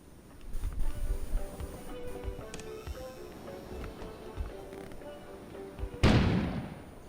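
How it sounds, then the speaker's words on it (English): In the video game Kona, a sudden outdoor explosion bursts out sharply near the end, following quieter low rumbling and scattered thuds. "An explosion suddenly occurred outside."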